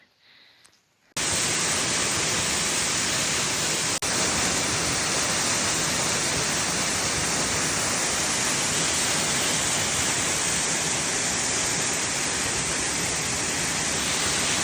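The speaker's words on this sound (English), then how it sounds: "Just been trekking through the Welsh mountains for hours to find this waterfall that's in the quarry" A waterfall in a Snowdonia quarry roars as a dense, constant rushing hiss, loud and close, starting abruptly after a brief quiet moment and continuing unbroken.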